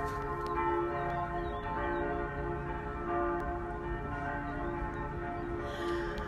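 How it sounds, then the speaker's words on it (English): Church bells ringing steadily at a distance, a faint sustained chiming with layered tones over quiet background. "These bells are ringing for my show."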